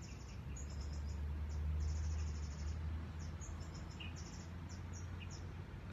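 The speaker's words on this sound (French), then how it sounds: "il y a plein d'oiseaux, c'est magnifique" Birds chirp and twitter on an island in Thailand, heard at a distance over a steady low ambient hum, with repeated high calls through the whole stretch and nobody talking.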